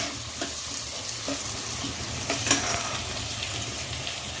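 Salted onions frying in a pan for duck curry, a steady close sizzle broken by occasional stirring scrapes, with no speech over it.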